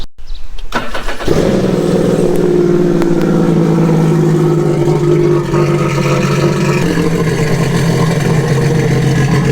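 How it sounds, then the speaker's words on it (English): A Sea-Doo jet ski engine cranks and starts, then runs loudly at a steady idle close by, with a slight change in pitch partway through. "what we're going to do is start the ski up"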